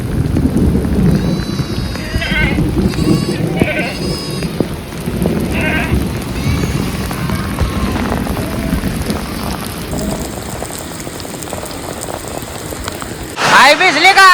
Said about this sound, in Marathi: पाऊस लय आलाय, पहिलाच पाऊस आहे यंदाचा.